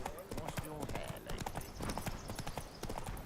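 Horse hooves clip-clopping in the video game Witcher 3, a fast, steady galloping rhythm heard close and loud throughout, with other sounds mixed underneath.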